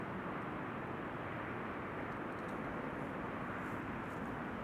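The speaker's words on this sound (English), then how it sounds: "It's an Embraer 190." Embraer 190 passenger jet at Amsterdam Schiphol Airport, a steady broadband engine roar that holds evenly throughout with no break, heard from a distance.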